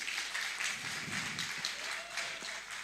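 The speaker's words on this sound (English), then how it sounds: "Please, once again, can we give a round of applause?" Conference audience at a student congress applauds, a soft, steady patter of many hands at some distance, with faint voices underneath.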